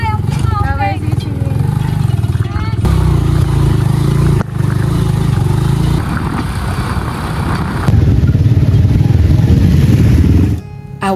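Motorcycles with luggage packed and strapped on start up and set off, a steady loud engine drone running throughout, with voices calling out over the motor.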